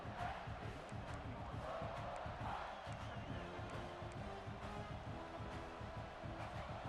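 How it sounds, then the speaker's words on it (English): Stadium crowd in EA Sports College Football 26, a steady roar of fans with rising cheers running continuously at a low, distant level, under faint play-by-play commentary. "This crowd trying to make life miserable for this offense."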